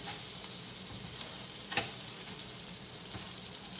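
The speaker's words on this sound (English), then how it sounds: "Definitely sizzling quite a bit." Steady, crackling sizzle of chicken tenders frying in hot oil, with a brief clatter partway through.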